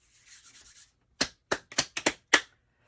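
Flour-coated hands rubbing together for biscuit dough: a soft brushing swish at first, then about six sharp, close rubbing and patting strokes in quick irregular succession, with no talking.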